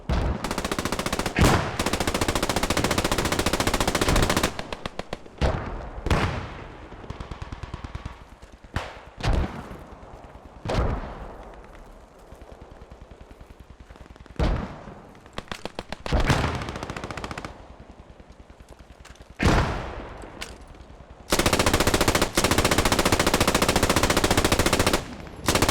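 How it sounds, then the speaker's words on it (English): Machine gun suppressing fire in an online multiplayer war game match, loud sustained bursts alternating with quieter stretches of scattered shots and thuds, the heaviest strings at the start and near the end. "Just general suppressing fire there."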